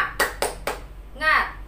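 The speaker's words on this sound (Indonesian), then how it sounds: "1, 2, 3. Tepuk semangat." A class of children joins in a rhythmic spirit clap, three sharp group claps in quick succession followed by a brief burst of children's voices calling out together.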